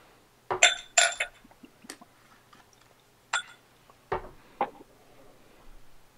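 A bourbon tasting glass is picked up and set down during a blind bourbon tasting, making several sharp glass clinks and knocks, close and clear, with quiet pauses between them.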